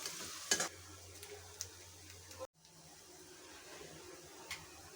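Finely chopped onion frying slowly over a low flame for a green bean curry, giving a soft, quiet sizzle with a few scraping stirs near the start and a brief drop out partway, no voices.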